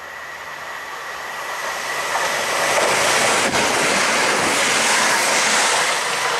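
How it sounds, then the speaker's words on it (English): A Class 170 diesel multiple unit on the Fife Circle passes through South Gyle station near Edinburgh, a loud, broad rumble swelling after the first two seconds and holding steady with wind buffeting the microphone. "Now about to pass through is yet another Class 170 running 2 Golf 83 from Edinburgh to Cowdenbeath."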